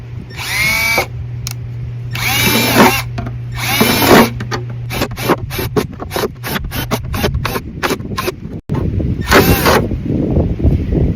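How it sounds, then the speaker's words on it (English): A power drill whines in loud bursts, starting and stopping repeatedly as an average-size bit bores drain holes through the bottom of a plastic jug, with a constant low hum underneath. "create those drain holes here in the bottom with my drill"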